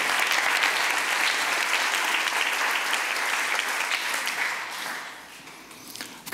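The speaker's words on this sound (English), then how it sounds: "applaud for both of them." Applause from a conference audience at a JavaScript event, steady dense clapping that thins and fades toward the end, with a brief sharper sound at the close.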